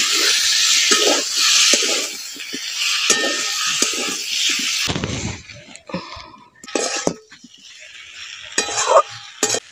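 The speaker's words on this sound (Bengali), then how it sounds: "এবার এর মধ্যে সেদ্ধ করে রাখা কচুগুলো দিয়ে দিচ্ছি।" Boiled taro pieces are dropped into a pan of frying spice paste and stirred, with loud sizzling at first, then scraping and clinking of a spoon against the pan in irregular bursts.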